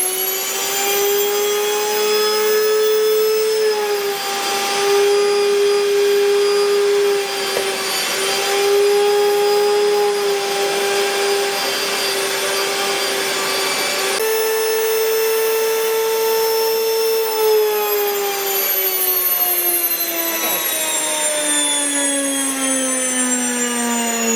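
An electric wheat grinder mills flour on its finest setting with a loud, steady, high-pitched whine and roar, its pitch dipping briefly and sliding lower near the end.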